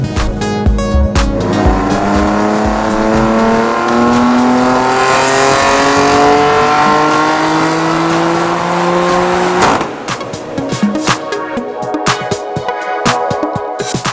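A BMW M4 engine with a stage 2 map and catless downpipe revs hard on a dyno, climbing steadily in pitch for several seconds, loud and sustained, then cuts off into a rattling idle.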